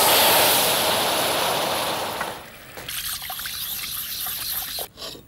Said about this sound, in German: in dem Moment, wo es schön haselnussbraun ist, lösche ich ab mit etwas Wasser